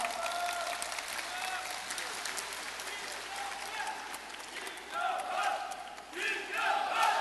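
At a presidential candidate's book launch in Cheongju, a large crowd keeps up a steady wash of applause mixed with shouts and cheering, fairly distant, swelling near the end.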